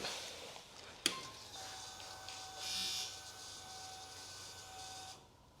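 An electric fuel pump runs as a faint, steady whine and hum while it builds pressure. A single sharp click comes near the start, and the sound tapers off at the end.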